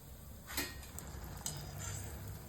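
Egg chops frying in hot oil, a steady soft sizzle with occasional light crackles and pops, close and continuous with no talking.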